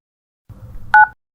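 Phone number being dialed on a telephone, heard as a short pair of sharp keypad tones near the end of a brief stretch of low background rumble.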